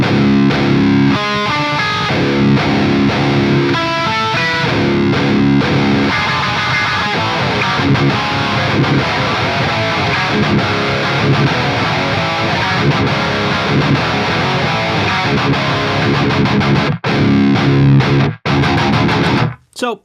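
Loud, continuous distorted electric guitar riffing through a Quad Cortex on the EVH Red Channel 6L6 amp model, dense and driving, cutting out in short gaps near the end.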